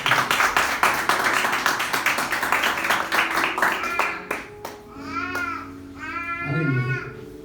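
A church congregation at a Wednesday worship service claps in a brisk, steady rhythm, the applause fading out partway through as a voice speaks alone afterward.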